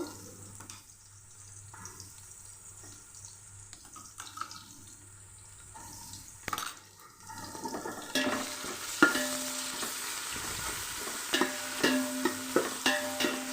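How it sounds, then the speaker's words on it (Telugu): Ginger garlic paste frying with browned onions in a pan, faint sizzling and stirring early, then louder scraping and clinking stirs toward the end, no talking. "అల్లం వెల్లుల్లి పేస్ట్ బాగా వేగాలండి, పచ్చివాసన పోయేవాళ్ళు"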